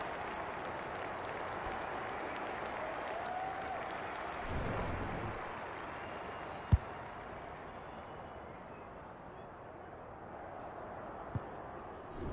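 A crowd applauds a goal kick at an Australian rules football match, a steady wash of clapping and cheering from a distance that rises around the middle and then settles, with a couple of sharp knocks.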